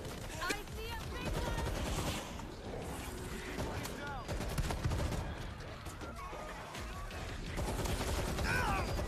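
Dense automatic gunfire and rapid shots in World War Z co-op campaign play, loud and continuous with explosive crashes, under excited voices talking and shouting.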